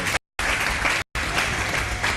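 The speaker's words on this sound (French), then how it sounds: "Applaudissements." Loud, dense applause from a crowd, clapping continuously with two abrupt cuts to silence.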